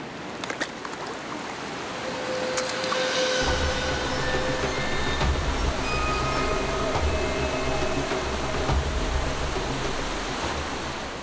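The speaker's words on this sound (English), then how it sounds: "Does that sound like rapids to you?" Rapids rush through a long dark cave, a broad continuous roar of water with a deep low rumble that builds after a few seconds and holds steady throughout, no voices.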